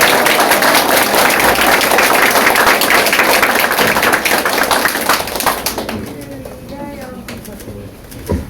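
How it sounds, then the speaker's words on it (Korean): Audience applause at a Republican Party (Korea) ceremony for a new provincial chair, loud dense clapping that fills the first half and then fades out, leaving a quieter room with faint voices. "큰 박수 부탁드립니다."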